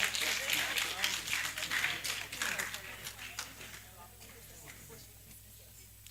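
Scattered clapping for an honoree at an annual New Year school and conference in Ghana, a moderate burst of claps that thins and fades after a few seconds over a steady background hum.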